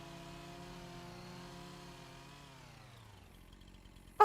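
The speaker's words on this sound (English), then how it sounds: "He switched to working with the chainsaw," A chainsaw running in the farming video game Farming Simulator 25 gives a steady, buzzing engine drone that winds down and fades out, followed by a brief sharp burst at the end.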